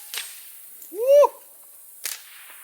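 Suppressed Steyr RFR rifle firing a 60 grain round, a single soft sharp crack with a brief ringing tail, bracketed by faint clicks and near-quiet room tone.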